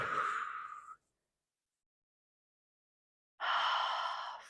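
Breath exhaled during a yoga flow, a soft airy sigh that fades out after a second, then a pause of silence before another breath swells up, close and clear with no talking.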